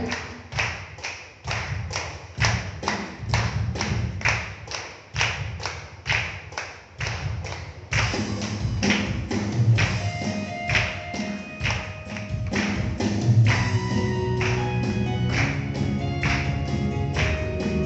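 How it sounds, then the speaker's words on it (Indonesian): Congregation in a church clapping hands in a steady, fast rhythm, each clap a sharp thud repeating evenly throughout, joined after a while by music underneath. "Tepuk tangan, berikan yang terbaik bagi Tuhan kita."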